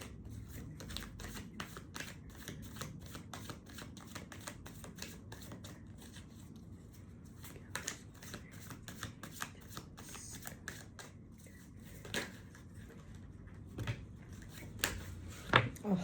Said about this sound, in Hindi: let's pull out the cards